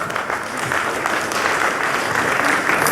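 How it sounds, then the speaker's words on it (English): A conference audience at a political party's annual gathering applauds, a dense, steady wash of clapping from a large hall crowd sustained throughout. "I'd like you to give a very special round of applause to John Worrell."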